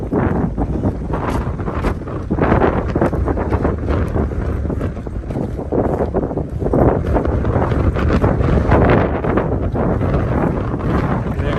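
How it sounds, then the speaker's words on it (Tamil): Strong wind gusting across the microphone on the Kataragama mountain pilgrimage route, a loud continuous roaring buffet that swells and eases without a break. "இதுக்கு மேலே அடிக்கும் காற்று"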